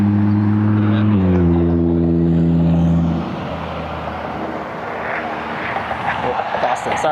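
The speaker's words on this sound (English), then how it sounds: "Pretty purple Lamborghini." A purple Lamborghini passing near an airport, its engine note loud and falling in pitch over the first seconds as it goes by, then fading into a broad rumble of traffic and aircraft noise.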